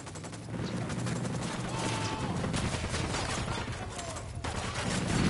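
Sniper and rifle fire in the Ghost Recon Wildlands shooter game, a rapid barrage of gunshots crackling continuously over dense battle noise.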